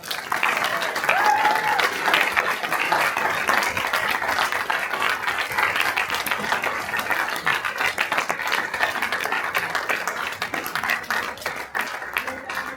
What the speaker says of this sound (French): Donc on peut les applaudir bien fort